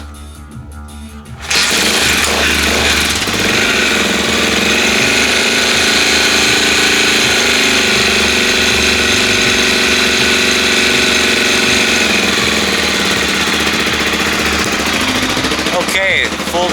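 A cold engine kick-started on full choke catches after a brief quiet moment and keeps running loud and steady, with a rough mechanical idle and a clattering, hammering texture.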